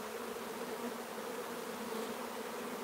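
Dense honeybee buzz from a shaken hive box during queen cell building, with drones among the crowd; a steady, even drone fills all three seconds, close and continuous with no voices.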